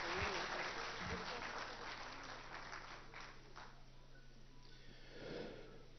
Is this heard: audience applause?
yes